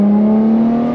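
A Ferrari F12 TDF engine holds a loud, steady high-pitched drone at low road speed, heard up close with no talking.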